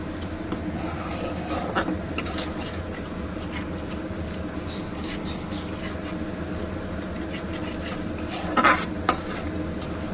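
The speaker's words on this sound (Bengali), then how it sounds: "এটা নেড়ে নেড়ে নেড়ে নেড়ে যতক্ষণ না তেল ছাড়ছে আমি এটা নাড়তে থাকবো" Egg malai curry masala with yogurt being stirred in a pan: a steady, scraping, rubbing texture from a spoon working the thick mixture, with faint sizzling and a few sharper clanks near the end, continuous and close, no talking.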